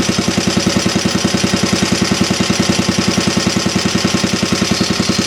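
A Briggs 5S engine drives a generator at roughly 1200 RPM, producing a steady, loud, rhythmic chugging with evenly spaced firing pulses throughout, running alone without talk.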